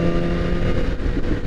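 A 2016 BMW S1000RR motorcycle engine runs steadily with low harmonic drone and road rumble, close and loud, held at a fairly even pitch through the short stretch.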